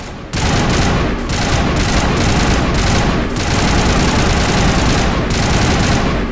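Sustained automatic gunfire in the video game Mass Effect, rapid loud bursts rattling almost without pause after a brief quiet start, with a few sharper cracks standing out.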